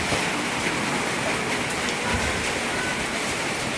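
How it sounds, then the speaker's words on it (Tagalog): Steady rain pours down over a quiet open-air market, a dense, even hiss of drops that continues without break from start to finish. "Tahimik ang palengke kasi umuulan."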